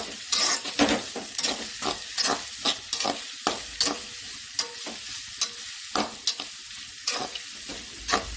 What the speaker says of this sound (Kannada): ಈ ಥರ ಫ್ರೈ ಮಾಡ್ತಾ ಇದ್ದೀವಿ, ಬೇಗನೆ ಬೇಯುತ್ತೆ